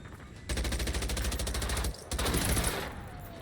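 Rapid automatic gunfire aimed at robots in the video game Generation Zero, a loud, fast, even stream of shots that pauses briefly, resumes, then tails off.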